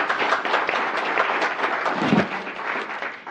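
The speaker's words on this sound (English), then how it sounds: "let's give a round of applause" A crowd at a city council meeting applauds steadily throughout, dense clapping close by and fairly loud, with no voices standing out.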